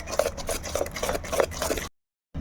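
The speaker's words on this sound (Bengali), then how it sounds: "তো ইনোটা দিয়ে আবারও একটু ভালো করে নাড়িয়ে দিতে হবে।" Mango cake batter being stirred in a bowl right after Eno is added: quick, steady scraping strokes, close and fairly loud, that stop abruptly near the end before a short return of sound.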